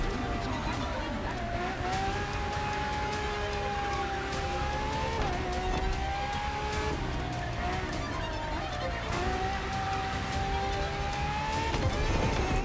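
A Ferrari FXX K supercar engine roars and shifts through gears while racing in The Crew Motorfest in Hawaii, a sustained high-revving whine that rises and drops with each change, under talk throughout.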